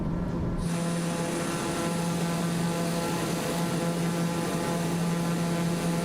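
A TBM turboprop aircraft in a flight simulator video game flies over Micronesian islands, its engine giving a loud, continuous drone with a steady propeller hum that holds constant throughout, with no speech.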